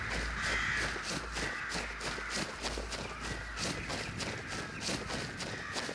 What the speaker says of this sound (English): Wow, the birds are so active right now.